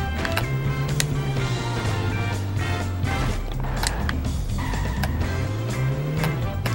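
Car driving in Simpsons Hit & Run, a steady engine drone that rises and falls with gear shifts and speed, with occasional sharp knocks and clatters, no voices.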